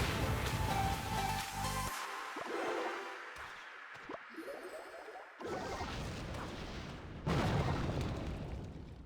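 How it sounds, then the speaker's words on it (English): Rocket spells strike in the mobile game Clash Royale, producing several booming, crashing impacts with explosive bursts and debris-like crackle, interspersed with brief quieter gaps and game effects. "he rockets my expo again"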